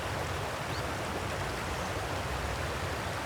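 Water flows in a steady broadband rush at night, an even, continuous stream-like hiss with no voices or breaks.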